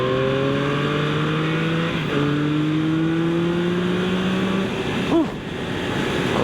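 A 2025 Yamaha MT-09 SP motorcycle pulls hard from 40 to 80, its engine note climbing steadily, dipping for a quick gear change around two seconds, then rising again before easing off, loud and close with wind noise.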